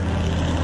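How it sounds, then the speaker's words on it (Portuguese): A two-seat propeller airplane engine drones steadily in flight, a loud continuous buzzing hum with no breaks or voices over the short stretch. "Como muitas vítimas do Barão Vermelho, sou um alvo fácil nesse avião de 2 lugares."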